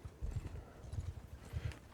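Horses and pack mules travelling in a party in Mount & Blade II: Bannerlord, a rhythmic clip-clop of hooves in repeated muffled bursts, close and fairly soft.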